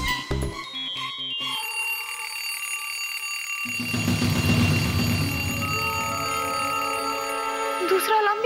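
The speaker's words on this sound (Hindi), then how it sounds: "दूसरा अलार्म भी बज गया।" An alarm clock ringing with a sustained, bright metallic bell tone, preceded by a brief busy stretch and continuing under a louder rumbling, noisy background.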